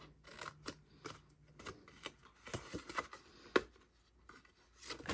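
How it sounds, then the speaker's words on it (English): Scissors snip the corners off paper, making a quiet series of crisp, close cutting clicks at an uneven pace, with soft handling rustles between them. "And snip, and then snip, and cut those corners."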